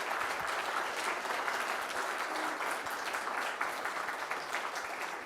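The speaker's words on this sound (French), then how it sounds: "je voudrais que vous fassiez un tonnerre d'applaudissements pour Mohamed Cheikh" Sustained applause from a festival audience at a film festival closing ceremony, dense and steady throughout, with no talk over it.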